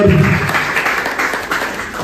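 An audience claps loudly and steadily for about two seconds, a dense wash of applause with a brief voice-like tone at the very start.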